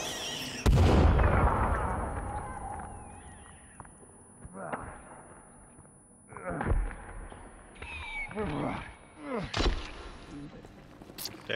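Grenade explosion in a forest-set video game: one loud booming blast near the start that rumbles and fades, followed later by several smaller thuds, with voices talking over it.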